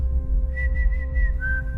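A person whistles a few short, clear tones, then a longer steady note, fairly close and loud over a low rumbling background.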